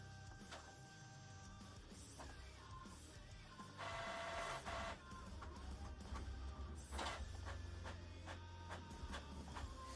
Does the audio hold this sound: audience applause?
no